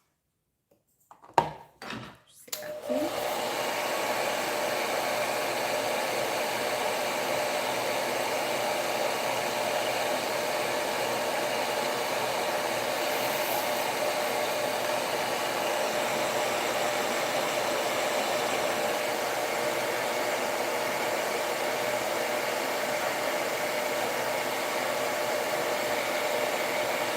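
A hair dryer drying a handmade craft piece for a counter decoration, switching on after a few clicks and then blowing as a loud, steady whooshing roar close by for the rest of the time.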